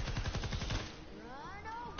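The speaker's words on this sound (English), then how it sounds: "I just got a headshot with a blue pump for 34 damage." Rapid gunfire from a blue pump shotgun in Fortnite Save the World, a quick cluster of loud shots in the first second, then fading into a ringing tail.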